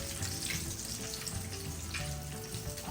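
The last batch of fried chicken frying in hot oil gives a steady, close, dense crackling sizzle with a constant bubbling texture and no talking.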